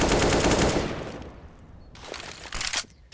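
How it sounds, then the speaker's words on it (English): Gunfire rings out in a Counter-Strike match on Inferno. A dense, loud burst of shots fades out, followed by a few more scattered shots, with no talk over it. "Penny's just picking up 3 kills in the apartments on the Deagle"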